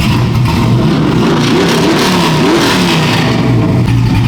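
A Chevrolet OBS pickup fitted with a swapped LS V8 revs loudly and continuously up close, its pitch climbing and falling through several throttle blips with no voices.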